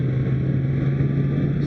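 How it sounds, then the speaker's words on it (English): A 2015 Honda Fireblade motorcycle with its stock stubby exhaust hums in a loud, steady, low engine drone that holds an even pitch throughout, with no talking. "The stock exhaust doesn't sound bad."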